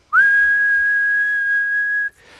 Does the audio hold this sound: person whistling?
yes